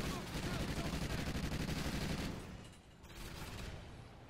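Sentry guns firing in the video game Call of Duty Extinction, a dense continuous rattle of rapid automatic gunfire that drops away after about two seconds into quieter game noise.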